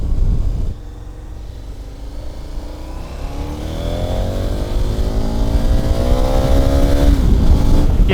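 KTM 1290 Super Adventure 2015 motorcycle being ridden, its engine note climbing steadily as it accelerates, loud and close over constant wind rush.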